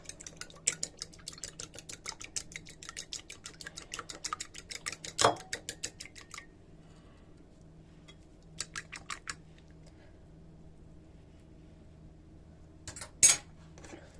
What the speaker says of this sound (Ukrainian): Далі яйце, трошки молочка. Збиваємо вилочкою.